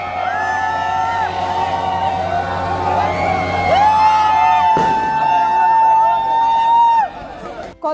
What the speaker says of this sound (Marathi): गंगापूर रोड आणि कॉलेज रोड या ठिकाणी रात्री उशिरापर्यंत प्रचंड गर्दी करून जल्लोष करत